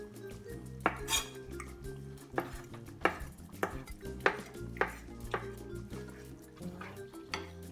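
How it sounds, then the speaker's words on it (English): A knife cuts calamari tentacles in half on a board in a home kitchen, giving irregular, sharp taps and clicks close by over a low background hum. "I like to cut the tentacles in half."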